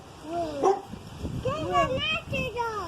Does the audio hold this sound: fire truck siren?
no